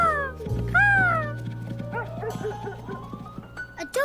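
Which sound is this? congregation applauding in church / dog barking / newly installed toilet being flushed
dog barking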